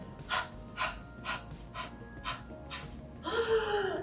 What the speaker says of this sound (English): your Kapalbhati is going to look a little bit like this. Kind of like a dog panting